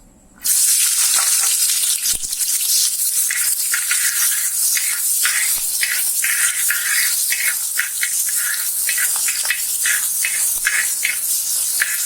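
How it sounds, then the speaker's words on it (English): Onions hit hot ghee in a preheated pan and erupt into a loud, close, continuous sizzle and crackle that holds steady after the sudden start. "I have already preheated the pan and put the ghee in it, and now the ghee has heated up and it's ready. So first we will put the onions."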